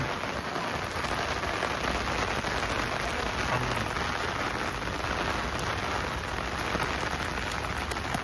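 Steady, dense rain pouring down on a hard surface at a cricket ground, a continuous hiss with no voices, close and even throughout.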